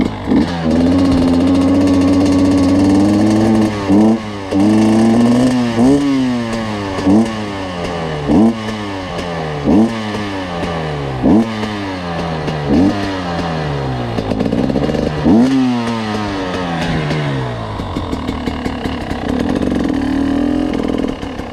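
A motorcycle engine idles and revs gently through slow figure eights on flat ground, its pitch rising and falling in a steady loop of short throttle swells, close and loud throughout.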